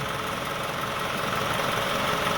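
A 2002-2006 Toyota Camry engine idles with the AC on and the car shaking, a steady continuous rumble with a faint roughness throughout, close by and with no voices.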